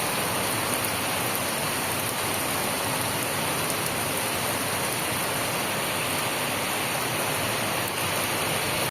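Heavy monsoon rain pours down steadily over a village, a dense unbroken hiss that stays loud and even from start to finish.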